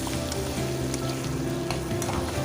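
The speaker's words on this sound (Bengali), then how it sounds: "এখন জাস্ট হালকা একটু আলুগুলোকে ভেজে নেব।" Potatoes fry lightly in a pan, giving a loud, even sizzle with faint crackles throughout a short, close stretch, no one speaking.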